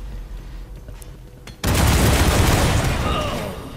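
Bombards firing in the dungeon strategy game War for the Overworld: faint ambience, then an abrupt loud blast that rolls into a sustained, heavy rumble slowly fading out.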